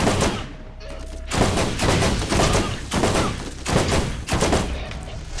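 Dense, loud gunfire in the Borderlands shooter game, sustained bursts of rapid shots rolling on without pause, with faint talk mixed underneath.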